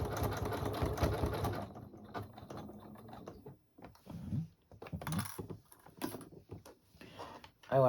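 Sewing machine stitching a speciality stitch on a poinsettia table runner: rapid mechanical whirring and clatter, loud and close at first, then shorter stop-start bursts of stitching.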